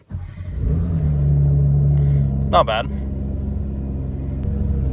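A Porsche GT4 engine cranks over and settles into a steady, low rumbling idle with a short rising rev near the start, close and continuous beneath a brief spoken remark.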